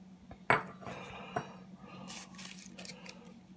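A Lodge cast iron pan made in Missouri clinks sharply when handled, with a couple of bright metallic knocks followed by quieter rattling and scraping, all faint and close.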